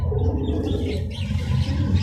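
Alexandria pigeons cooing softly, low throaty murmurs repeating in a close, continuous rumble with faint higher chirps above.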